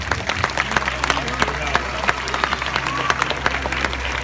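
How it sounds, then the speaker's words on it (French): Audience applause at a hypnosis stage show: a steady wash of many hands clapping, moderately loud and continuous, with crowd murmur and some voices talking through it. "je pense qu'on peut les applaudir bien fort"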